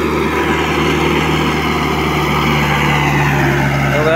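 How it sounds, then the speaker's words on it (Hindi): Swaraj 843 tractor engine labouring uphill while hauling a trailer of sand, a steady loud diesel drone with a constant low hum that continues without pause and no talk. "देखो भाई चढ़ाई पे ट्रैक्टर का दम"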